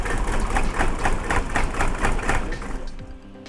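A Maserati car's engine runs with a rough, lumpy pulsing beat, close and fairly loud, then falters and dies away into near quiet at the end.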